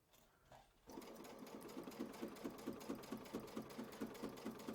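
A sewing machine stitches a quilt block, starting after a short quiet moment into a steady, rhythmic mechanical chugging with regular needle beats, close and continuous to the end.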